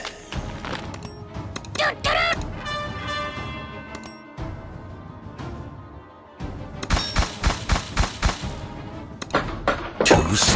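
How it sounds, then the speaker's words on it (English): Explosions and combat effects from the strategy game Kingdom Rush Vengeance: a chaotic mix of blasts, crashes and thuds, with a rapid series of sharp bursts near the end and game voice lines scattered throughout. "Goblins, don't look at explosions!"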